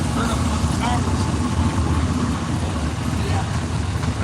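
A 1992 Chevrolet race truck at a dirt-track championship night in Rockwell, Iowa, rumbling steadily as it rounds a corner, a continuous mid-distance engine drone under a commentator's voice.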